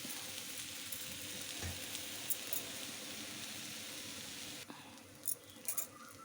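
Ragi flour dosa topped with onion, green chilli and ginger cooking on a pan, a soft continuous sizzle and faint crackle, quiet and steady, with a few light clicks near the end.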